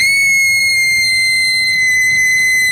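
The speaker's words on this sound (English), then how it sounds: "She screamed so loud and so long that windows broke all over town." A woman's loud, long scream in a Thomas the Tank Engine episode, one unbroken shrill piercing tone held steadily and intensely from start to finish.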